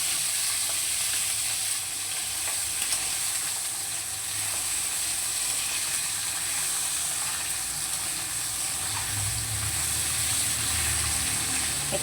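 Cut potato and eggplant frying in hot oil over tempered spices, a loud steady sizzle and hiss filling the whole stretch, close and continuous with no talk.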